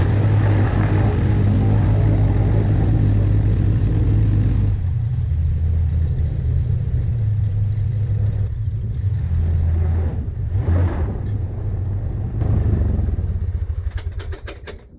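Engine of an Aeronca Champ light airplane taxiing in cold weather, a loud steady propeller drone that drops to a lower idle rumble partway through, then tails off at the end.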